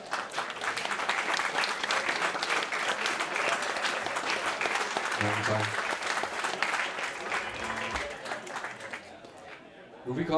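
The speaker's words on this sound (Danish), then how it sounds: "I alle sammen skal give en stor hånd til Stefan Jebsen og Nicolas Jensen." A large audience applauds loudly and steadily for several seconds, dense clapping filling the room, with a voice speaking over it partway through before the applause thins out.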